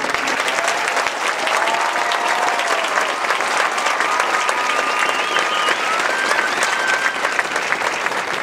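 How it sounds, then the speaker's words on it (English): A crowd at a Marine Corps company graduation ceremony gives steady, sustained applause, a dense wash of many hands clapping evenly throughout at a distance, with a faint tone drifting through it. "please join us in a warm round of applause for the officers and drill instructors of"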